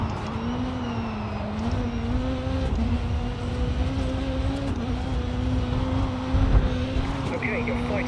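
Rally car engine in the racing game Dirt 4 during a rallycross event, a steady droning engine note holding pitch with slight rises, fairly loud and continuous throughout.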